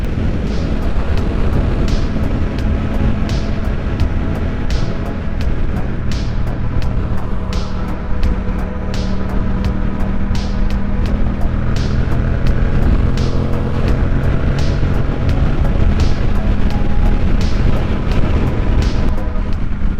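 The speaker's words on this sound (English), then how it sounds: "I'm getting wind, it's gonna happen, because again, this is a fucking naked bike" Heavy, constant wind roar buffets the microphone while riding a Yamaha MT-07 naked motorcycle on the freeway fitted with a Puig touring windscreen, with engine drone beneath and no talk.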